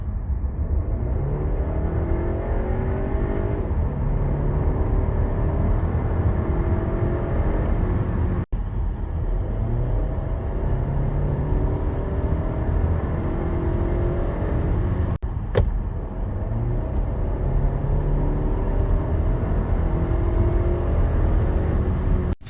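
A Seat Ateca FR SUV with a 2.0 TSI 190 engine and 4Drive drives and accelerates, heard from inside as a steady low road and engine rumble with tyre noise, continuous and even, broken by a couple of small knocks.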